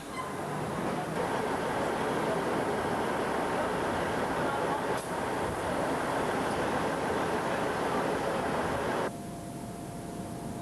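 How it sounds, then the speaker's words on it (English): Interior of a Class 158 regional express train running, a steady broadband rumble and rush of the moving carriage throughout, dropping quieter near the end. "This is the interior of a Class 158 regional express train."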